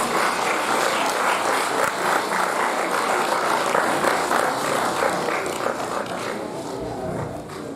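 Applause from an audience at a college lecture, a sustained even clapping from many people that rings steadily for several seconds before thinning slightly at the end.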